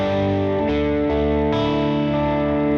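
A Fender electric guitar with its bridge and middle pickups blended rings out in sustained, chorus-tinged, slightly overdriven chords, loud and close, with fresh strums near the start and again about halfway through.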